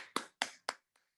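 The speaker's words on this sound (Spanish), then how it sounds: "Igualmente, aplauso." A few slow hand claps at an arts award gathering: three sharp, evenly spaced claps in a quiet room, followed by two faint softer ones.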